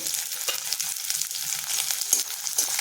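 Green chilies and crosswise-sliced onion frying in oil in a pan: a steady, close hiss and crackle of sizzling with faint scrapes of stirring throughout.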